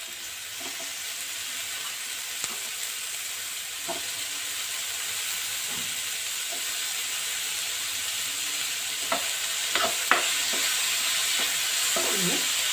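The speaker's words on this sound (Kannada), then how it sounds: "ಫ್ರೈ ಮಾಡ್ಕೊಳ್ಳೋಣ." Tomatoes fry in a pan for a veg sandwich filling, a continuous close sizzle with occasional spoon taps and scrapes that grow busier toward the end; no voices.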